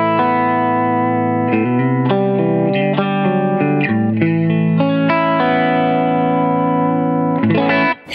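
Electric guitar run through a compressor, amp simulation and subtle spring reverb with no delay, playing sustained distorted chords and single notes for about eight seconds, loud and steady, alone with no voice.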